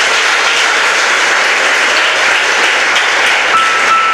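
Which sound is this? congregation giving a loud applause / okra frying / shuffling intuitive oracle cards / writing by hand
congregation giving a loud applause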